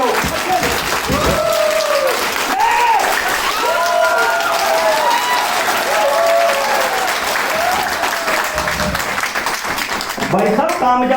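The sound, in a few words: audience clapping for Gupta ji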